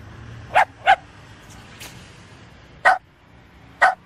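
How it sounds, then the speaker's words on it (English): A mangy old dog in an animated sitcom barks four times, two quick sharp yaps, a pause, then two more spaced barks, loud and close against a quiet background. "Donnell, what the hell am I supposed to do with this mangy old dog?"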